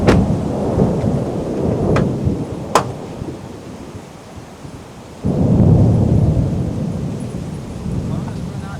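Thunder from a severe thunderstorm: a loud rolling rumble at first that fades, then a fresh heavy peal breaking in about halfway and slowly tailing off, with rain noise underneath.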